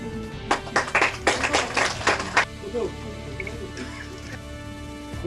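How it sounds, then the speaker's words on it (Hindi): A crowd claps at a political gathering in Poonch, a dense burst of applause lasting about two seconds, close and fairly loud, then fading into quieter background murmur. "तालियां मारो।"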